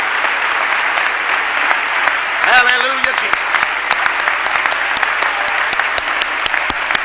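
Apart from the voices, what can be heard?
congregation clapping hands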